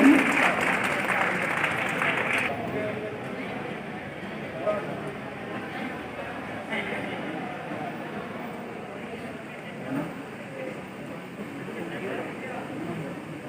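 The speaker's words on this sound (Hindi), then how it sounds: "आप जब ताली लगातार बजाते रहें" Audience applause at an NSTI Ludhiana stage program during a ghazal and song performance, steady dense clapping for several seconds that thins into a lighter patter, with voices in the crowd.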